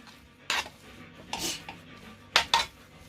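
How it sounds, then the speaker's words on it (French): Mashed potatoes seasoned with turmeric and ginger are stirred with a utensil against a pot, giving a few brief scraping clinks separated by quiet pauses, close and without speech. "On mélange le tout"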